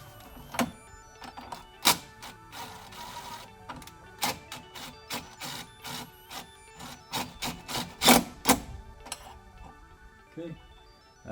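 A ratchet tightens down an oil catch can mount on a Ford F-150 3.5L Tremor, in repeated quick clicking bursts at an irregular pace, close up.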